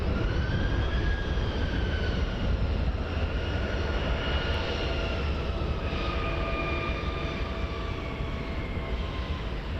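An Embraer jet at Montréal-Trudeau Airport gives off a steady, moderately distant turbine roar with a whining tone that slowly shifts in pitch, continuous with no pauses.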